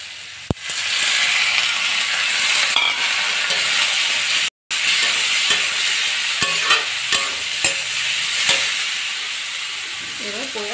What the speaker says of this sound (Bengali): পোয়া সব ভালো করে ভাজা হয়ে গেছে